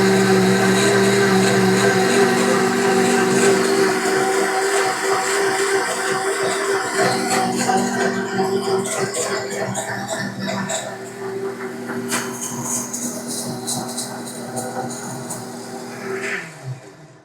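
A 1400-watt HS-210E commercial heavy-duty blender runs with only water inside, giving a loud, steady whirring drone that holds for most of its length, eases slightly toward the end, then stops.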